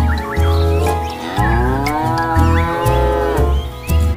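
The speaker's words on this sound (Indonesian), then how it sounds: "Ternyata ini hewan sapi." A cow moos loudly and close by in repeated long, drawn-out calls, several in a row with short pauses between them, with no talking.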